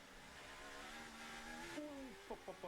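Lewis Hamilton's Formula 1 car at Austin qualifying, its high-pitched engine note rising and shifting through gears over a bed of commentary, then a few sharp downshift blips near the end.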